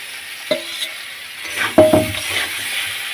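Brinjal pieces and other vegetables for Bengali shukto sizzle steadily in a hot frying pan, with a few sharp scrapes and knocks of a spatula stirring them close by.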